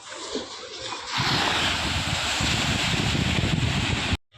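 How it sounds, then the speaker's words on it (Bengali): Sea waves at high tide on Digha beach rush in as a loud, continuous roar of surf with wind buffeting the microphone, building after a quieter start and cutting off abruptly at the end. "সমুদ্রের ঢেউ আচ্ছা এই মানে এখন মনে জোয়ার তাই না দেখো ঢেউগুলো কীভাবে আসছে"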